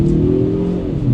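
A 2025 Mazda CX-30 engine revs steadily as the car accelerates hard to 60 mph, a continuous mid-pitched roar with no voices.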